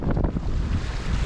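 Strong wind gusting over open water during a rough sail in high winds and waves, a loud continuous roar with buffeting against the microphone and no voices.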